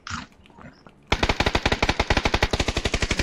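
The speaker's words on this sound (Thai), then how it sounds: "นี่มันยิงไม่พักเลยไอ้ครีมเนี่ย" A video game machine gun fires a long, rapid, even burst of sharp, loud shots close by, after a brief stretch of quieter game sounds.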